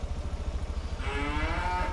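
Highland cattle on a farm give a drawn-out moo with clear tonal harmonics in the second half. A steady low rumble runs beneath it throughout.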